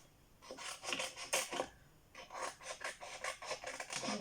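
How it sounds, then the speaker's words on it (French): Scissors cutting a paper cloud shape for a handmade card, a quiet close series of rhythmic snipping and rasping strokes in two bursts. "Donc maintenant, il va falloir découper le nuage."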